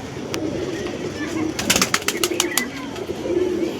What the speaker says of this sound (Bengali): ঠিক আছে, এই হচ্ছে পায়রা। এটা দেখো পায়রা।